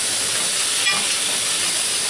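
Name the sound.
lamb roast searing in a hot pan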